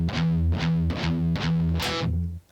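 A heavily distorted electric guitar chugs palm-muted pedal tones, five loud rhythmic hits in a steady pattern before cutting off, played alone.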